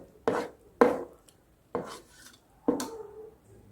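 Homemade khoya, cooked until completely dry, is scraped out onto a plate in four distinct raspy strokes, close and fairly loud, with no talking.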